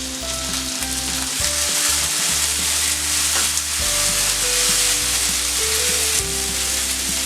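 Onions and tomato sizzle loudly and steadily in a pan while vegetables for pizza puff filling cook, with occasional stirring clatter and no voices.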